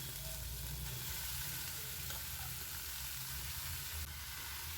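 Fenugreek seeds, bay leaf, cumin and dried red chilli crackle in hot oil as a tempering for a bottle gourd and fish head dish, a continuous soft sizzle with a faint scrape or two, no voices.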